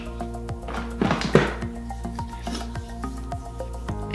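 Makeup Forever mattifying primer being rubbed into skin, close and soft, with a few short brushing swishes set against a quiet steady background tone.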